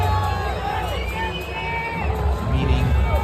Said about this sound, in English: Everyone cheering for him.